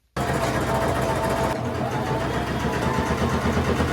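Sewing machine stitching a hem on a thrifted garment, a steady close mechanical whir running continuously after a brief start, with no talking.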